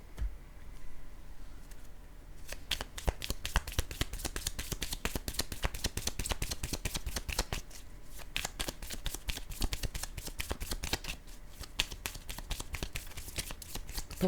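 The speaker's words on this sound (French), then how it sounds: "Je vais déposer une carte sur l'argent." Tarot-style cards being shuffled and laid down during a card reading, a long run of close, quiet riffling snaps and soft flicks in quick rhythm.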